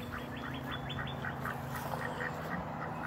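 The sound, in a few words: duck breathing hard and quacking in the heat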